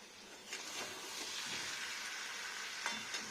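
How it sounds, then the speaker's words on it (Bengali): Egg curry stirred in a hot pan gives a steady, close frying sizzle with soft scraping strokes and a few sharper clicks, alone and without talk. "এবার আমি নাড়া দেব"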